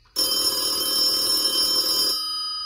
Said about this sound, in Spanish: Estaba sonando el teléfono.